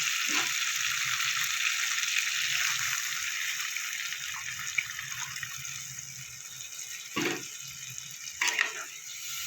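Sizzling egg curry gravy crackles steadily in a pan as a little water is added, with a constant frying hiss and a couple of short splashy bursts near the end, and no voices.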